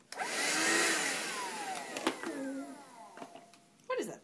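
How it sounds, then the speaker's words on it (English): A Shark vacuum cleaner runs with a steady broadband whir that swells early on, then fades and sputters, with a voice and other brief vocal sounds over it and a sharp burst near the end. "Did you say shark vac?"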